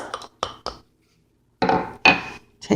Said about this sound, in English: So I'm going to again take my hammer here because I spread them out with my other hammer, and I'm just going to continue.